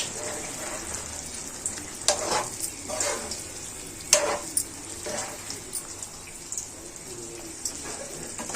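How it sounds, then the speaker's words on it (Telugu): Cauliflower masala curry, cooked until the oil rises, is stirred in a pan: a steady soft sizzle with a few sharper scrapes of the spoon against the pan at intervals, and no voices. "అంతా ఒకసారి కలుపుకుందామండి."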